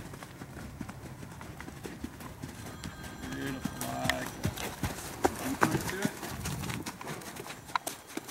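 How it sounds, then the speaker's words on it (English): A horse's hooves clip-clop in a steady rhythm while it is ridden on a riding circle, close and clear, with a trainer's voice speaking over the footfalls. "You can stretch him all the way down now on the circle."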